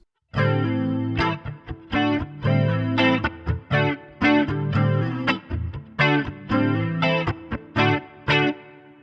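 Distorted electric guitar on a Latitude NW-1915 Goldtop Les Paul-style guitar, middle pickup position, with a rounded, slightly hollow tone, playing chugging power chords in bursts with short stops, loud and close, with chorus shimmer.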